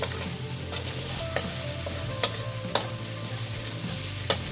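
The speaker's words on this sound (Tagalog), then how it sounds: "So lutuin lang muna natin yung onion." Onion sautéing in a pan for mixed seafood, a steady close sizzle with a constant low hum underneath and occasional sharp clicks of a utensil against the pan.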